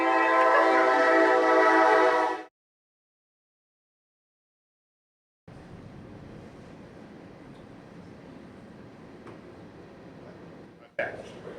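A train passes through downtown Moncks Corner, opening with a loud, sustained whistle blast that cuts off abruptly, then after a short silence a steady, moderately loud rumble of railcars rolling by continues to the end.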